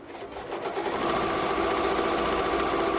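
An embroidery machine sews a satin outline stitch on a glitter appliqué, a close, continuous fast needle chatter that builds quickly and holds steady.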